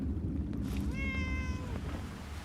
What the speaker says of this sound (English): I can't believe that Penny's cat isn't robotic.